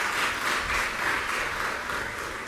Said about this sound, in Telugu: చప్పట్లు కొట్టి దేవుని స్తుతిద్దాం.